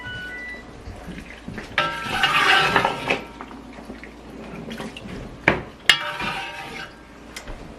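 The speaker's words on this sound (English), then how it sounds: "basically what I'm doing is I'm draining the whey from the curds" Whey draining from goat cheese curds through a colander into a plastic bowl: soft trickling and dripping with a few light clinks and knocks of the bowl, close by and quiet, with no talking.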